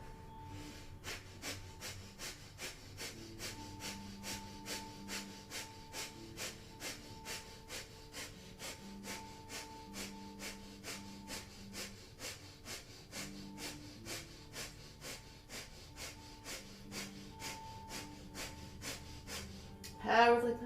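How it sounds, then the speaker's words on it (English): Breath of fire yoga breathing: rapid, rhythmic forceful exhalations pumped from the navel, a fast even train of short breaths over soft background music, ending with a louder burst. "Powerful breath of fire, strengthening the low back."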